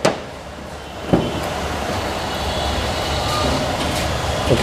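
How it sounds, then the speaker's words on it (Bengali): Steady low engine rumble from an idling Toyota Rush seven-seater, close and continuous, with a brief thump partway through and no talk over it. "গাড়িটা কিন্তু স্টার্টে আছে স্টার্টে আছে ভাই সাউন্ডটা দেখেন কত স্মুথ"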